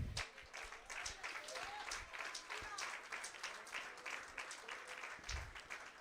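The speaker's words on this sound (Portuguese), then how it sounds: "Aplauda ao Senhor." A church congregation applauds during a Portuguese-language sermon, producing a continuous, fairly soft wash of many hands clapping with a few louder claps standing out and some voices mixed in.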